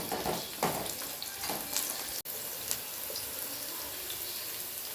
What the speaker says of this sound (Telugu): ఇప్పుడు ఫ్రై చేసుకోవాలి ఆనియన్స్. 2 పచ్చిమిర్చి వేసుకోవాలి